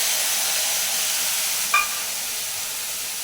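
Onion paste and black cumin seeds hit oil left hot from frying fish, giving a loud, steady sizzle throughout with one brief sharp clink partway through.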